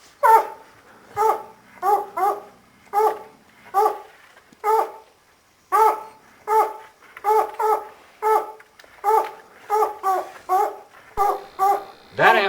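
Hunting dogs bay and bark in steady repeated bursts while treeing mountain lions in the Montana backcountry, the loud calls coming near and sharp, one after another, with no talk over them.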